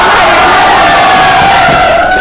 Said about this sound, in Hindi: ये आदित्य सर का क्लासरूम था, क्राउड भरा हुआ है